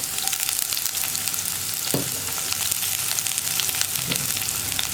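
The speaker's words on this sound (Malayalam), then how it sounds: "ഇനി ഉള്ളി ഒന്ന് ചെറുതായിട്ട് വഴറ്റുക." Sliced onion with dried chili and curry leaves sautéing in oil in a pan, a constant close hiss of frying broken by two soft scrapes of stirring, no voices.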